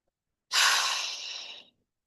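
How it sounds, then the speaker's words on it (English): A single deep breath, loud and close, a long breathy exhale-like rush lasting just over a second in otherwise silent surroundings. "Take a deep breath."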